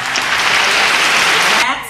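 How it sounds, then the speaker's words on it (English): A brief burst of applause, dense clapping that ends abruptly after about two seconds. "Boy, applause."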